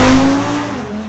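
Drag racing cars, a 2018 Audi and a 2003 Chevrolet S10, launch at a street-legal drag strip, giving a brief loud burst of engine revving that fades slightly as they pull away.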